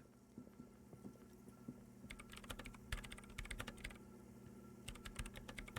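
Keys clatter on a radio computer keyboard in the video game Disco Elysium, rapid uneven bursts of clicking over a low hum, quiet and close, with no voices.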